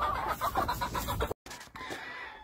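A gamefowl stag on an Oklahoma farm clucks in quick, repeated notes nearby, broken by a brief silent cut, then fainter clucking and farm ambience.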